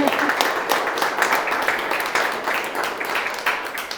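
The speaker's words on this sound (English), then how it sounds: "let's give Katie a round of applause and thank her for coming" Audience at a gallery talk giving a round of applause, fairly close and loud, with uneven bursts of clapping over four seconds.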